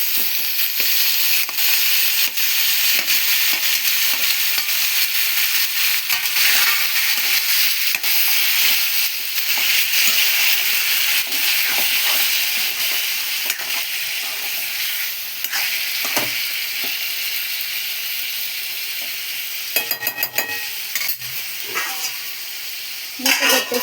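Tomatoes fry in a pan for a tomato and drumstick curry, giving a loud, continuous sizzle broken by scraping stir strokes, close and steady, with no talking.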